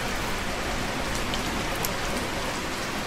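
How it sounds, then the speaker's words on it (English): Steady rain in the flight-hangar game Plane Mechanic Simulator, a dense even hiss of drops on surfaces that holds at constant loudness throughout, with no voices. "And it's raining now."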